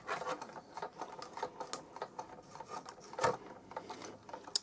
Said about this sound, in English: we will crank that through the Big Shot